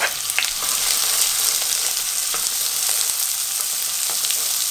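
Onions hit a hot pan with beef for Hungarian goulash, producing a loud, dense, continuous hiss of frying with faint scrapes, close up and without any voices.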